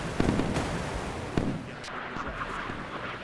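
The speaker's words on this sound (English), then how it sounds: "ЗУР запущен." Surface-to-air missile launches in the naval video game Sea Power, sharp repeated cracks and booms over a constant rushing roar, with a few distinct launch bangs near the start and middle.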